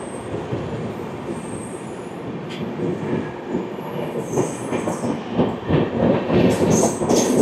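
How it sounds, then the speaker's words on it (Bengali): Howrah Rajdhani Express from New Delhi pulling into a station, a steady low rumble of rail cars and wheels building in loudness, with faint squeals and clatter toward the end. "চলে আসছে ট্রেন নম্বর 123-02 নতুন দিল্লি থেকে হাওড়া,"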